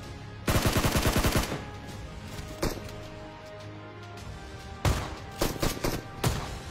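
Gunfire in the video game PUBG Mobile at Pochinki: a rapid automatic burst, a lone shot, then several more short bursts, loud and sharp against a low background hum.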